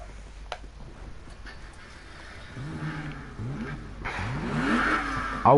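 A Lamborghini Aventador in the Need for Speed 2015 video game revs its engine, rising in repeated climbing sweeps that grow louder toward the end after a quieter, low idle.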